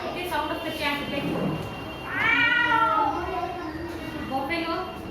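A child imitates a cat's meow during a classroom mimicry activity, giving several drawn-out meows with one long, rising and falling cry in the middle, and faint children's chatter around it.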